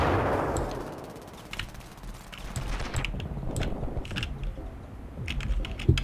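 Machine-gun fire in the Ravenfield video game, with dense rattling bursts, a loud blast at the start and rapid shots continuing at moderate loudness throughout.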